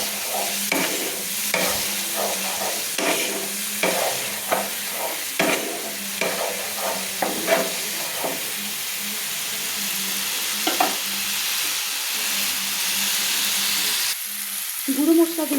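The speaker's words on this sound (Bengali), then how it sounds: "একটু জল দিয়ে এবার পুরো মশলাগুলো কিন্তু আমি তেলের সঙ্গে কষিয়ে নিচ্ছি।" Ground spices with a splash of water cook down in hot mustard oil for a Katla fish and bean-seed curry, a steady sizzle running throughout with repeated scraping stir strokes at an uneven rhythm, close by.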